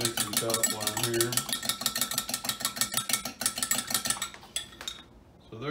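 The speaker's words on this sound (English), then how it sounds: "I'll go ahead and beat it in my mixing cup while I'm here" An egg is whisked briskly in a mixing cup for sourdough bread, a fast steady clinking of utensil against the cup that slows and stops near the end, with a voice briefly heard under it.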